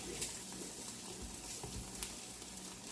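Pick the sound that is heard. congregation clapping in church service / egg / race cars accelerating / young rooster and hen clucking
egg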